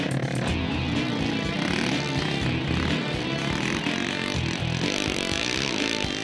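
A KTM 530 EXC dirt bike engine races hard during a four-hour enduro event at Taupo, a loud, continuous buzzing roar that holds steady close by, with faint rises and dips in revs.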